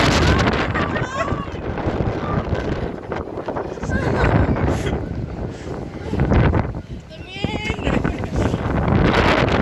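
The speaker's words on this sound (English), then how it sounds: "Amsterdam is bloody windy." Strong gusty wind in Amsterdam buffeting the microphone in loud rumbling surges that rise and fall over about ten seconds, with street noise in the background.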